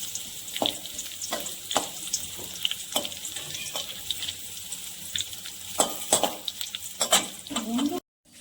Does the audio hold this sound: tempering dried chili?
yes